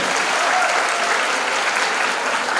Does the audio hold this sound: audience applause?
yes